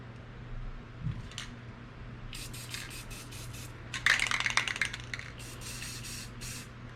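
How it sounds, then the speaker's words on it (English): Several short bursts of white spray paint hissing from an aerosol can onto a canvas, with a longer, louder blast in the middle, close by and alone. "I'll spray a little white up here for like an accent."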